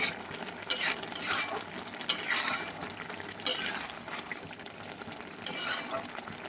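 Jute leaf curry with pabda fish simmers and sizzles in a pan, a steady bubbling hiss broken by recurring stirring scrapes and light clinks of utensil against metal, close and without talk.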